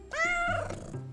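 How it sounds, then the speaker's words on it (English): A cat gives a single clear, close meow with a rising then falling tone, loud and alone, lasting about a second. "A cat."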